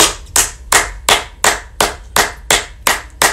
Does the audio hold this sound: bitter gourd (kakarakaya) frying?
no